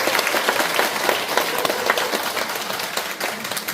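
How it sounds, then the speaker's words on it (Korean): An audience at an education forum in Gumi applauds after a poem reading, with dense, continuous clapping filling the room at a steady, fairly loud level with no talk over it. "큰 박수 올려주시기 바랍니다."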